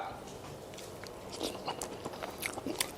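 Close, quiet biting and chewing of fried seafood coated in stretchy cheese, with soft irregular crunches and moist mouth sounds scattered over a few seconds.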